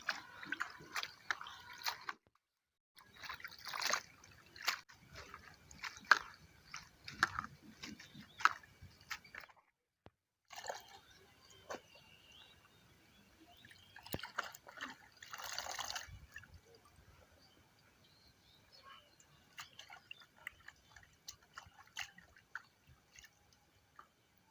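Spinach, mustard greens and bathua leaves are washed in water by hand, producing irregular sloshing, dripping and wet rustling in uneven bursts, with quiet pauses between handfuls.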